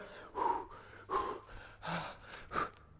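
Heavy, labored breaths imitate a tired boxer after heavy-bag work: four loud gasping inhale-exhale pulses in a steady rhythm, close to the mic with no talking.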